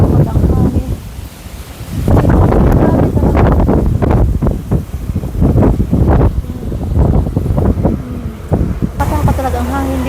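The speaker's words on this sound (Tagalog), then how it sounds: "Nakakatakot talaga ang hangin dito." Strong wind buffets the microphone in loud, gusting roars, with a voice speaking through the blustery noise.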